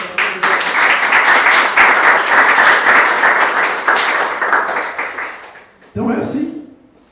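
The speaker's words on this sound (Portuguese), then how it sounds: "Você pode aplaudir o Senhor?" Loud, sustained applause from a church congregation fills nearly the whole stretch, dense and steady before breaking off near the end, where a voice briefly speaks.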